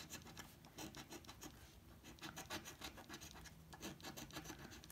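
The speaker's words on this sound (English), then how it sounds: "I always start scratching in the wrong spot." A coin or fingernail rasps across a Texas Lottery scratch-off ticket in short, quiet bursts of scraping and rubbing, close up and alone with brief pauses between strokes.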